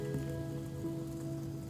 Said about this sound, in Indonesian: Pas tidurnya itu diguyur hujan.